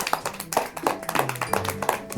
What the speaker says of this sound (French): À ce moment-là, les applaudissements fusèrent.